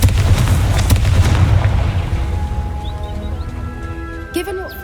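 A Confringo fire spell explodes in the Hogwarts Legacy video game, a loud booming blast with heavy low rumble at the start that fades into a lingering tail over ambient game sounds.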